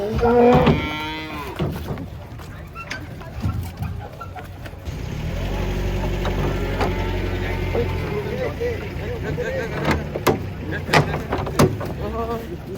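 Giant startled cattle unloading from a truck moo nearby in low, drawn-out calls, with a vehicle rumbling past and people talking in the background.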